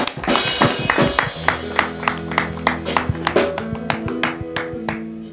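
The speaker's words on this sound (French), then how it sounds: "on applaudit quand même pour cette honnêteté" Applause from an audience at a Congolese music talk show, a burst of claps in the first second or so, then sparse taps over sustained music tones.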